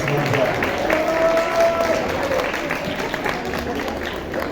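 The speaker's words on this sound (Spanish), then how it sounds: "Vamos a animarnos con otro fuerte aplauso a los compañeros y compañeras." Audience applause for teams at a community education workshop, a steady wash of clapping throughout with voices and a faint tone mixed in.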